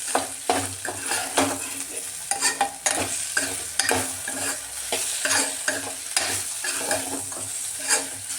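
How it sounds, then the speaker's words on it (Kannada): Okra stir-frying in a pan, a steady close sizzle broken by repeated scraping and clattering strokes as the pieces are turned over and over, with no talking. "ಮಿಕ್ಸ್ ಮಾಡಿ ಬಿಡೋದಲ್ಲ, ಕ್ಲೀನಾಗಿ ಹುರಿತಾ ಇರಬೇಕು, ಮೇಲೆ ಕೆಳಗೆ ಮಾಡ್ತಾ ಇರಬೇಕು ಬೆಂಡೆಕಾಯಿ."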